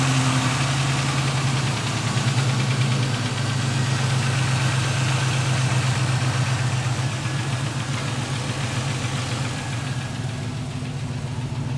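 An LS-swapped Cutlass with a fuel system fault idles steadily, a deep, even engine rumble with slight knocking vibration, close and constant throughout.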